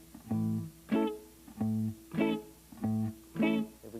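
A bass note is plucked and left ringing, then a strummed chord is chopped off short. The pair repeats three times in a steady, close, clear rhythm with no talking.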